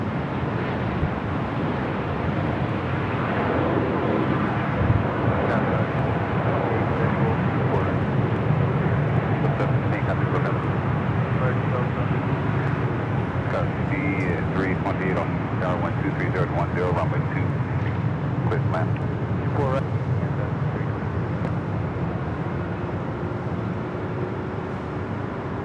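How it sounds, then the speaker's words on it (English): An arriving Boeing 787-9 Dreamliner in Star Alliance livery, in from Tokyo Haneda at Los Angeles airport, producing a broad continuous roar with some wind buffeting, under occasional talk. "It's the flight coming in from Tokyo Haneda on the 7879 Dreamliner and the Star Alliance livery."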